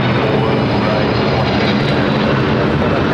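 Airplane engines roar loudly and steadily near the runways at Los Angeles LAX airport, a dense continuous rumble filling the whole stretch.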